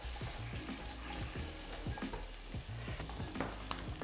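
Potatoes frying in oil in a pan, a steady broadband sizzle with soft stirring scrapes throughout, close and moderately quiet, with no talking.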